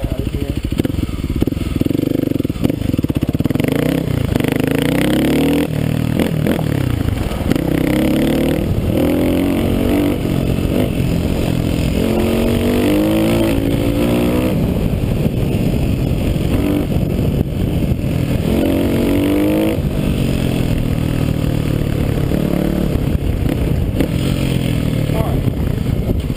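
A Kawasaki KLX250S motorcycle engine revs hard in first gear as the rear wheel spins. The loud, close engine roar rises and falls without a break, and a rider talks over it at times.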